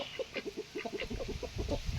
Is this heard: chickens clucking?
yes